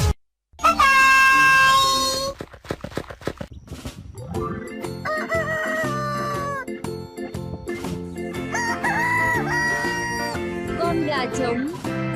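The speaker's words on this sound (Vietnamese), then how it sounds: "Con gà trống." A rooster crows near the start in a children's lesson on farm animal sounds, its bright harmonic call cut off as an upbeat nursery song with singing takes over.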